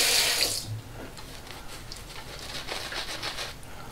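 Tap water runs into a sink during a shave with Proraso menthol cream, starting as a bright close splash that eases into a quieter, steady trickle and patter.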